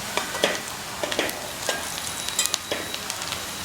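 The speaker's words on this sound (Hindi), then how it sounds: "प्याज को हम गुलाबी कर लेंगे।" Onions frying in a pan for bhuna mutton, a continuous bright sizzle broken by frequent quick clicks and scrapes of a spoon stirring them, close and fairly loud, with no voices.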